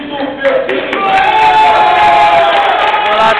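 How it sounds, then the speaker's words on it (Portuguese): A crowd at a poker tournament final table applauds and cheers as the players are introduced, a loud, sustained wash of clapping and shouts that swells and holds. "Agora eu gostaria que recebesse uma salva de palmas o Chico Inter da mesa final, o Juvenal"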